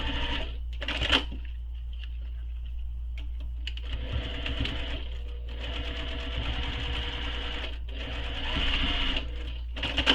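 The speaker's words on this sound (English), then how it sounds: "I'm sewing this webbing to the padded strap using the seam allowance she gives in the pattern" A sewing machine stitches nylon webbing onto a padded backpack strap, running in several bursts of steady rapid stitching with short pauses between, close and fairly loud.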